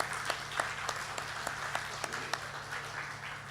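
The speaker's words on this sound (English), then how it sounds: "Please give yourselves a round of applause for being here." Audience applause at a topping off ceremony, a steady wash of clapping from a crowd with sharper individual claps standing out, moderately distant and without talk.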